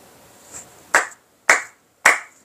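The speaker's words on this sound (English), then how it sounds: "You guys are gonna hear me be clapping a lot in these next set reviews" Three sharp hand claps at a steady, evenly spaced pace, close and loud against a quiet room, after a softer tap at the start, during a Lego Sonic the Hedgehog Shadow set review.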